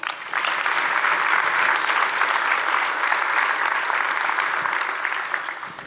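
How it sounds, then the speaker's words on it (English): Sustained applause from a conference audience at a React Native keynote, a dense, steady wash of many hands clapping that holds evenly throughout at close, moderately loud level. "A round of applause to all of you"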